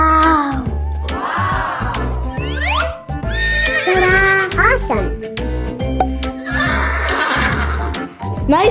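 A ride-on toy horse plays repeated electronic neighs and whinnies over a low looping clip-clop rhythm, loud and near, while someone talks alongside.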